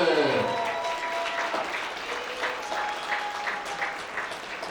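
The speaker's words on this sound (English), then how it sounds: "Please help me give a large round of applause to our special guest" A round of applause for a special guest at a procurement leaders summit, full and sustained clapping from the audience that fades slightly over time, with a few tonal sounds layered beneath.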